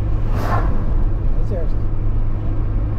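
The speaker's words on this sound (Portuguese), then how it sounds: "Olha o caminhão do exército." An army truck passes on the SP 253 highway heard from inside a moving car, a loud continuous road and engine roar with a brief swell early on, under people talking.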